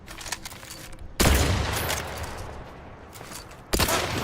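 Rapid gunfire from a repeating rifle in The Outer Worlds 2, with loud bursts opening near the start and again at the end and a sustained roar of shots and game noise between them.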